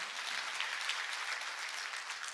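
Steady, dense applause from a church congregation during a Sunday service, continuous and fairly loud throughout with no voices over it.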